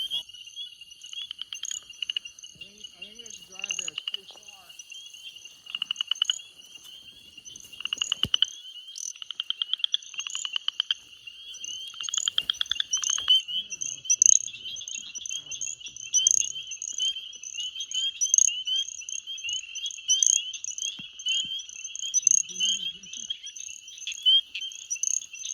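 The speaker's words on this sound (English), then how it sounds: "Got a little spring peeper right here." Spring peeper frogs calling at night near water, a dense chorus of shrill, high repeated peeps and trills. It rises and falls throughout, with a few faint lower croaks and brief speech in places.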